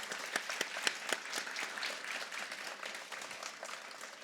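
Audience clapping at a Grade 4 school celebratory assembly, a dense patter of many hands with a few sharper claps standing out early, holding steady then easing off over a few seconds.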